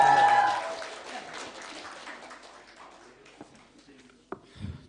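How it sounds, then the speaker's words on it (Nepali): An audience at a poem competition applauds a poet, loud and dense at first, then thinning and fading over several seconds, with a few stray claps and a voice near the end. "एकचोटि त्यो भाइलाई जोरदार ताली बजाउँदै थियो।"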